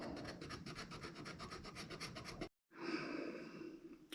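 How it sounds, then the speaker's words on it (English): Hand sanding of a wooden serving tray to strip off ATG tape adhesive produces quick, rhythmic rasping strokes, a short pause, then a longer, steadier scrubbing pass, all close and clear. "the sanding is complete"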